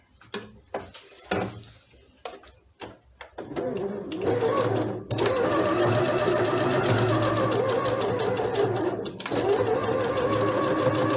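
Sewing machine stitching fabric for a doll's head, starting with a few short bursts and clicks, then running in a loud, continuous whir for several seconds with a brief dip partway through.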